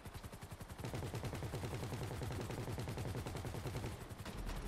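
Rapid automatic gunfire during a GTA V Online Humane Labs heist finale: dense, sustained bursts of shots layered over each other, close and continuous, with a brief lull near the end.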